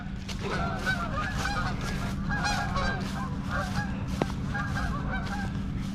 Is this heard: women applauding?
no